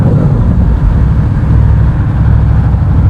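A motorcycle engine running close by, a loud continuous low rumble with a steady idle-like throb and no clear rises in revs, heard alone without voices.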